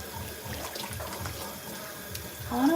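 Tap water running into a cup at home, a soft continuous trickle and splash that swells louder near the end as the stream strengthens.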